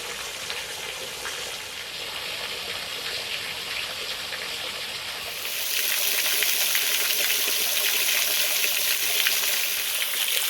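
A small creek waterfall pours steadily over a ledge on the Pickle Springs trail, a continuous close rushing hiss that swells louder about halfway through, with no voices.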